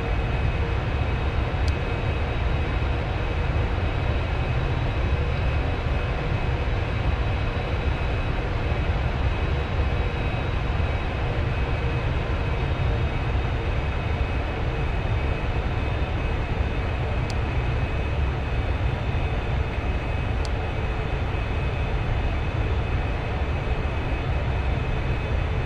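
Steady, loud jet engine roar from a British Airways Boeing 747-400 lined up on runway 27R at Heathrow, a continuous broadband rumble with a faint high whine, constant throughout with no talk.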